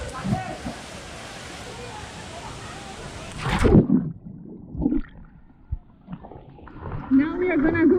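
Steady rushing roar of the waterfall at Puente de Dios in Tamasopo fills the first half and then cuts off abruptly, followed by quieter splashes and someone speaking.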